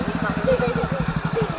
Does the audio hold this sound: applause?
no